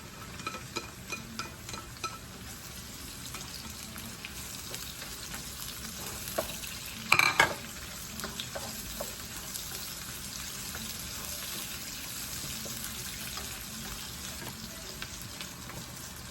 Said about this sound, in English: Saute our onions.